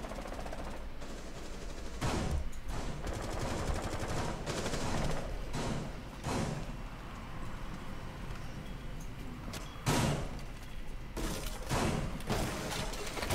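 Loud bursts of gunfire in a competitive esports shooter match with attackers and a bomb to defuse: scattered single shots and rapid volleys over constant game ambience.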